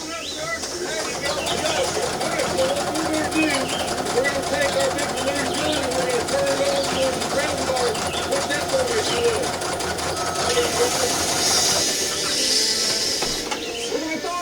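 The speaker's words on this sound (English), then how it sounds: "So we go ahead and sew our 3rd row of strips on." A sewing machine stitches strips of fabric onto a star quilt. The close, continuous mechanical whirring and rapid clatter run under steady talking throughout.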